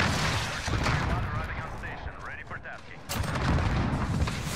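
Kilo 141 assault rifle gunfire in Call of Duty, dense rapid bursts of shots with booming battlefield noise, loud at the start and again near the end, while a player talks over the action.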